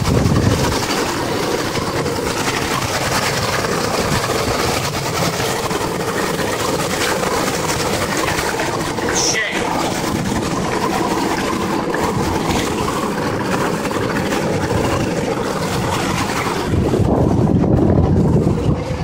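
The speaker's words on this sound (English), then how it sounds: "here's what the engine sounds like." A 2000 Johnson 150 outboard boat engine that won't go past 2000 RPM, running loud and steady under heavy wind rush, a constant droning roar that swells near the end.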